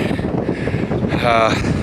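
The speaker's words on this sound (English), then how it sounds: "it's really windy up here" Strong wind on a hilltop buffets the microphone in a steady, loud roar, with a person talking throughout and a brief whistling gust near the end.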